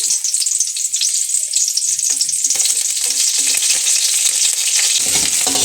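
Green chillies and curry leaves crackle and sizzle loudly in hot oil for pineapple sambar, a dense, steady frying hiss with brief stirring scrapes near the end and no talking.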